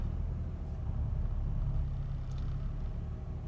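A 1998 Jeep Grand Cherokee with the 4.0 engine idling in park, a steady low rumble close by with slight fluctuation and no voices.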